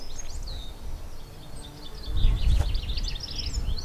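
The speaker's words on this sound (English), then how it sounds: "Oh, lovely bird song." Outdoor birdsong in the Surrey Hills: scattered high chirps and trills from several birds at a moderate distance, with a low rumble of wind or handling noise swelling midway and a brief sharp tick.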